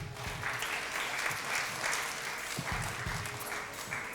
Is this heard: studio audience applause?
yes